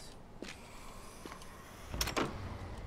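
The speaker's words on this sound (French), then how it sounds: "J'ouvre la porte." A door opens in the zombie survival game H1Z1, a faint click early on followed by a louder creaking, scraping swing around the two-second mark, heard alone without speech.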